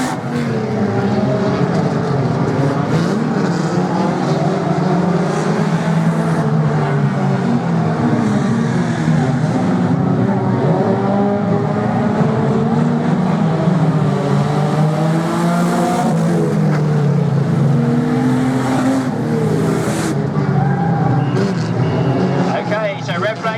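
Banger racing cars run on the track at a bank holiday meeting, their engines roaring and droning continuously with rising and falling revs over a crowd and a loud commentator talking throughout.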